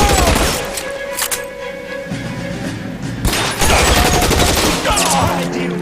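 Gunfire in the video game LA Noire, a dense loud fusillade of rapid shots with sharp cracks and thuds, continuous and close for several seconds.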